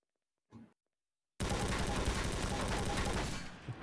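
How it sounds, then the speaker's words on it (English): An MP5 submachine gun fires in a multiplayer shooter game: after a short thud and a pause, a loud, sustained burst of rapid automatic fire runs for over two seconds, then trails off. "The messed up MP5 sound."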